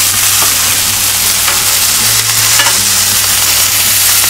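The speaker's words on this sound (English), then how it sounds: "it's very important that your pan or your grill is up real high so it gets that charring" Steak searing on a very hot grill pan, a loud, close, unbroken sizzle with a low hum underneath and a few faint clicks, with no talking.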